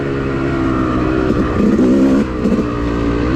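A Yamaha YZ woods dirt bike engine runs hard at full throttle on an off-road trail. The steady, loud, buzzing drone swells briefly in pitch near the middle, then settles back.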